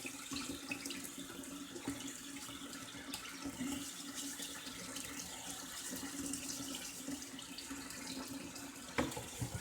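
Cold tap water runs steadily into a kitchen sink during dishwashing, a continuous close splashing stream with faint clinks of dishes and a small knock near the end, no voices.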